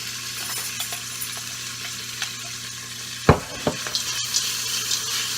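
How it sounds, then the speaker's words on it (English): Frozen peas drop into hot bacon-and-onion-infused oil, giving a low steady sizzle punctuated by a sharp clatter and a few small knocks as they land in the pan. "you can add in your peas"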